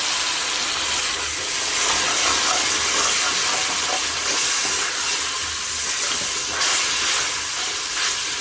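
Water hitting a hot pan of frying garlic, ginger and small cardamom, meant for mutton aloo gosht, releases a steady loud hiss of steam and sizzle that holds for the whole stretch without pause.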